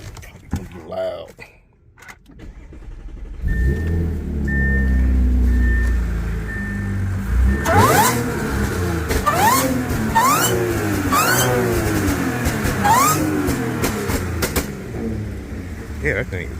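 A supercharged 3.0T engine in an Audi A6 cranks to life and settles into a loud idle, then is blipped through a series of sharp revs with a whine riding on top, with a person talking nearby.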